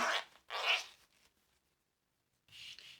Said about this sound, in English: at this point, you can go ahead and separate your zipper